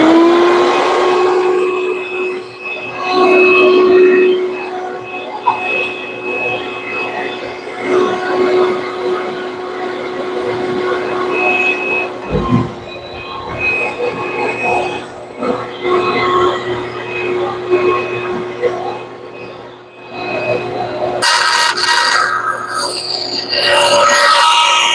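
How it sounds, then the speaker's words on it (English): A bandsaw and a workshop vacuum run together in a woodworking shop while a small cedar box is finished, giving a loud, steady drone and hum with brief cutting bursts and no talking. "vacuum on, bandsaw on"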